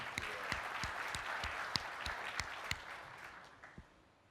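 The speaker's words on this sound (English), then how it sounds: "Would you mind a applause for him?" Audience applause in a conference hall after a presenter is welcomed on stage for an Internet of Things business talk, a scattering of distinct claps at moderate distance that thins out and fades toward the end.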